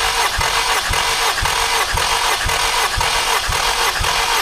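An engine cranks over on the starter during a dry compression test, a loud, even chugging of rhythmic pulses about twice per second with no firing, going on throughout.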